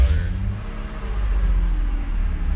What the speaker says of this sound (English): The engine sounds okay.